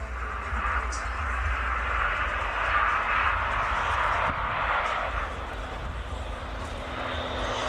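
Airbus A400M military transport aircraft at an air show, a steady, broad engine roar that holds loud and even throughout, with no talk in the clip.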